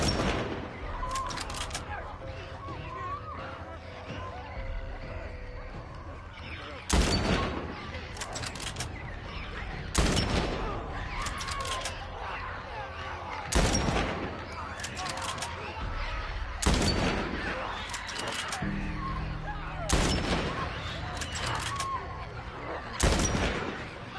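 Gunfire in the video game The Last of Us, with repeated loud bursts of shots cracking out every few seconds over a continuous backdrop of game noise.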